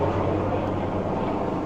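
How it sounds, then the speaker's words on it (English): Helicopter flying low overhead, a steady loud broadband rotor and engine roar with a low droning hum, continuous throughout. "Sorry for the helicopter."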